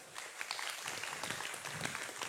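Applause for a pesantren at a religious gathering led by a kyai, a dense steady clatter of many hands clapping for a couple of seconds, with faint voices mixed in.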